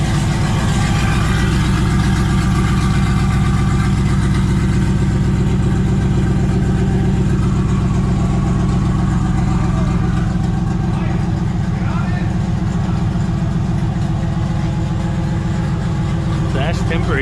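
Chevrolet Silverado Z71 pickup with a custom stainless steel exhaust and Borla Atak muffler idling at a shop, a loud, deep, steady rumble throughout, with people talking faintly over it.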